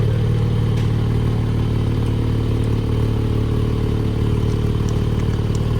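Deep, throbbing exhaust of a 2021 Porsche 718 Spyder Roadster with a 4.0L flat-six, idling nearby, a steady low rumble with a slightly uneven pulse throughout.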